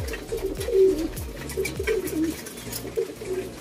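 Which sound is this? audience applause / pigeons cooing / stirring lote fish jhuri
pigeons cooing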